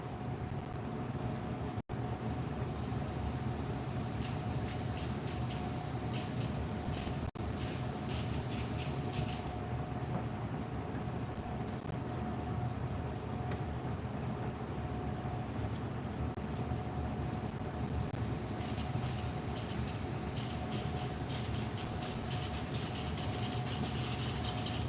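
Airbrush spraying outdoors in hot, muggy weather, a steady continuous hiss of air and paint with faint rubbing and mechanical background noise, one brief click early on, and no talk.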